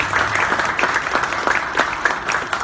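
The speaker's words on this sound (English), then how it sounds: "Do give them a round of applause." Audience applause at a museum of discovery, a dense, continuous wash of clapping from a sizeable crowd, loud and steady throughout.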